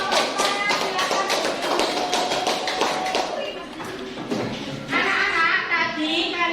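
A classroom of children claps together for a student group, the fast patter of many small hands filling the first few seconds before fading, with children's voices chattering close by.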